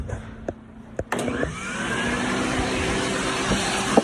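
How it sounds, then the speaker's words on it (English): A vacuum cleaner cleaning the vents of a PS5 console: after about a second of quiet clicks and handling, a loud, steady broadband whoosh starts up and holds evenly, close by. "Alright, let's get to vacuuming."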